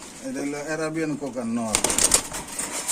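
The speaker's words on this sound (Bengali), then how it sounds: "বাইশ নাম্বার আছে একজোড়া রেসার কবুতর" A pair of racer pigeons coo softly and close by, followed by a burst of wing flapping, with someone talking over the birds.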